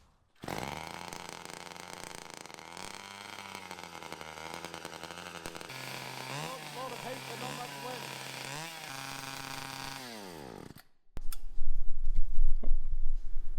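A small gasoline engine fitted to a homemade motorized hair dryer runs with a buzzing, revving whine that rises and falls, then cuts out and gives way to a louder rough rush of air.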